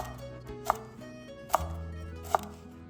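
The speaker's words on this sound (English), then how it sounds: "Then roughly mince the garlic and Thai pepper." Knife chopping garlic and Thai pepper on a board: three sharp, fairly close chops spaced unevenly over a few seconds, with low kitchen background noise between them.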